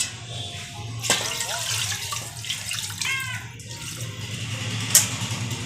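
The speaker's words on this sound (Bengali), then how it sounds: "তো আমি হাফ জল দিয়ে দিলাম" Water poured into a pot of duck curry with potatoes, a steady splashing stream with a few clinks of the pot, running continuously and fairly close with no talking.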